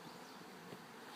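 Honeybees buzz on a hive frame, a dense, steady, close-up drone of many wings holding level for a brief moment, with no voices.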